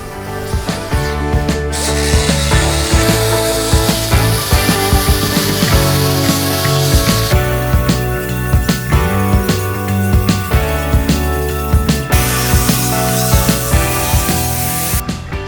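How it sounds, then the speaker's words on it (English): An angle grinder works down a welded patch on a 1964 Ford F100 truck's metal body, a loud continuous whine with repeated short bursts and shifting pitch as the disc bears into the steel. "now that we got the patch all welded up, we need to grind it down"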